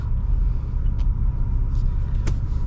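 A 2024 Ford Ranger Raptor's engine hums and rumbles steadily from inside the cab while driving, a low constant drone with a couple of faint clicks and knocks.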